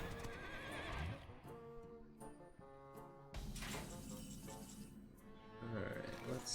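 A horse in a video game neighs and whinnies, several drawn-out whinnies with hoof clip-clop and game sounds, fairly quiet and spread across the moment.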